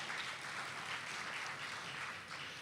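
Soft, even applause from a convention audience at a Georgia Republican Assembly gathering, a distant wash of many hands clapping that holds steady for a few seconds with no voices over it.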